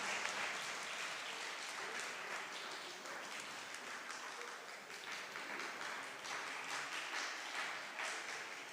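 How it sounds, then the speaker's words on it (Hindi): Audience applause at a mushaira poetry gathering at an inter college in Ghazipur, a steady, fairly faint wash of many hands clapping that runs the whole time without talk. "तालियां आपकी कमज़ोर पड़ रही"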